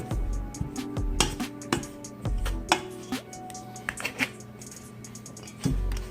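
Butter and vegetable shortening are cut into flour for homemade biscuits, producing repeated close clinks and taps of a utensil against a bowl in an uneven rhythm, with short pauses between clusters of strikes.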